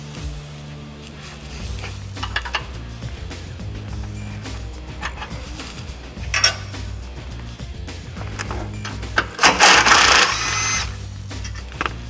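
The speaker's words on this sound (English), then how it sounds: "Now we're going to crack the brake line loose, remove the bracket." Work on a Jeep JK Wrangler brake line and bracket brings close tool noise: a power tool whirs in several short bursts among metallic rattles and handling sounds, with a louder burst near the end.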